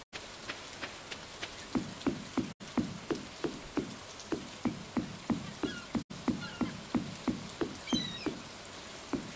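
Rain falling in Stardew Valley at the beach, a steady soft patter carrying a regular rhythm of louder drop-like taps throughout, with no voices.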